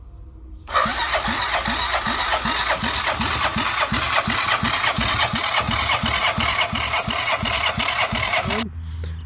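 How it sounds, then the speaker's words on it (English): A 2008 Yamaha Wolverine 350 ATV engine starts and settles into a steady, close idle with an even rhythmic chug, running for several seconds before it cuts off. "they sent me a video showing that the motor was running just fine"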